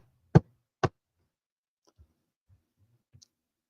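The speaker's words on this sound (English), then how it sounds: "Knock 3 times." Two sharp knocks ring out near and loud about half a second apart, followed by a few faint small taps and clicks in an otherwise quiet room.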